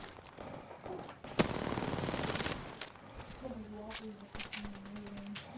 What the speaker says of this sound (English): Got some shooting farther up, too.